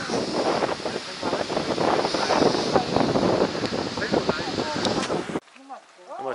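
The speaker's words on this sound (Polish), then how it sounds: "Wiatr jest, nie wiem, czy będzie, nie wiem czy będzie mnie słychać" Heavy wind buffets the microphone in a steady roar on the descent from Klimczok peak, with a voice talking beneath it, then the gusts cut out abruptly near the end.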